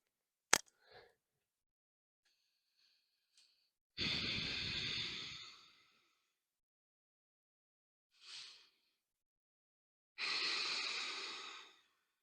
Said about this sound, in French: 2 cycles entiers de respiration Ujjayi.